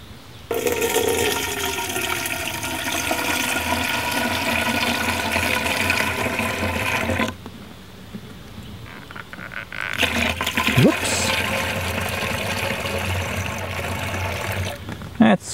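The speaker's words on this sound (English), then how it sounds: "I'm gonna start with the vinegar. Probably put about half of this in here." Vinegar pours and gurgles into a garden pump sprayer for homemade weed killer, a close, steady splashing stream that stops briefly midway and resumes, with a voice talking over it.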